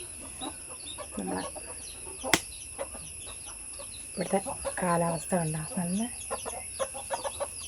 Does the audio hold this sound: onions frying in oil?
no